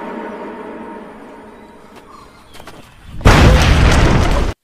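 A thrown explosive goes off in a film scene. A quiet, sparse stretch ends in a sudden loud blast that holds as a dense roar until it cuts off abruptly.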